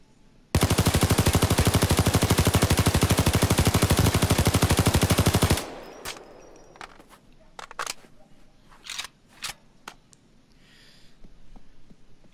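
An L85A2 Queen's Wrath assault rifle in Payday 2 fires one long, loud, rapid full-auto burst of about five seconds. Scattered sharp clicks and clacks follow in the quieter aftermath.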